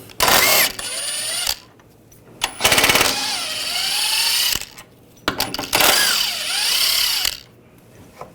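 A power tool with a 13mm socket runs in loud bursts, removing sway bar bolts during front lower control arm work on a 2009-2017 Volkswagen Tiguan, with whining spin-ups and rattling ratchet bursts between short pauses.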